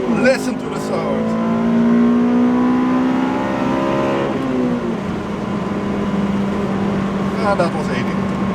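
Close in-cabin engine and exhaust drone of a 2008 Honda Civic Type R FN2 with a manual gearbox, climbing steadily under hard acceleration through a gear change, with road noise underneath.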